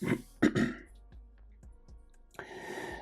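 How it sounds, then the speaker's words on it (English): A couple of short, rough throat-clearing bursts up close, then quiet with faint clicks, and a soft breathy exhale near the end. "Sorry, now tickly throat, coughing."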